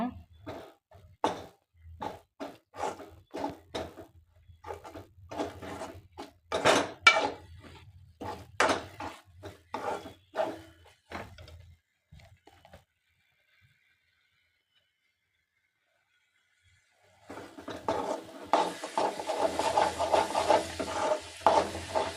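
Egg podimas, Tamil-style scrambled egg, stirred in a pan with a steady run of scraping, clinking strokes over faint background noise, then a short quiet gap and a dense sizzling, scraping stretch at the end.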